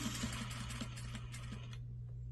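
A sewing machine stitches a skirt waistband at the center back, a soft rapid run of stitches over a steady motor hum, faint and close, ending as it slows toward a stop.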